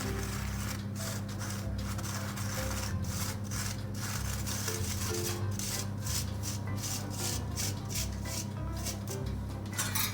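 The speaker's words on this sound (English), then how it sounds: "it's important at this stage that you strain the sugar so that no lumps are there inside" Sugar being pushed through a sieve for whole wheat saffron almond nankhatai cookies: a steady, continuous rasping scrape with rhythmic strokes over a low background hum, close and fairly quiet, with no talking.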